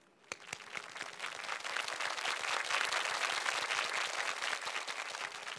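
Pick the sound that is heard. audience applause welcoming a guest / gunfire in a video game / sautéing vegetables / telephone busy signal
audience applause welcoming a guest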